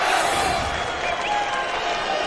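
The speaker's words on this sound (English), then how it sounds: "getting a great round of applause from the Tigers fans who have made the journey east" Rugby league fans of the travelling Castleford Tigers at Hull applaud a player, a broad, steady crowd clapping and murmur heard from a distance across the stadium.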